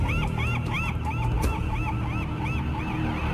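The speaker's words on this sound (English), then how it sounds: "those seagulls have not shut up since they pulled up in their car" Seagulls call repeatedly on Alcatraz Island, loud, rising-and-falling cries that overlap in quick succession over a steady background rush, with no one speaking.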